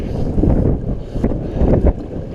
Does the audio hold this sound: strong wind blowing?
yes